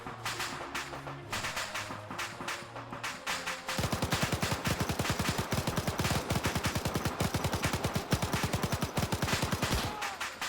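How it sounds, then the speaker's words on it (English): Arma 3 gunfire: sporadic shots at first, then a sustained rapid burst of automatic fire, loud and close, running for several seconds. "Shooting."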